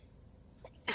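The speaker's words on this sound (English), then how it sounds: "I'm gonna sneeze." A single short sneeze bursts out near the end, close and loud after a quiet stretch with faint breathing.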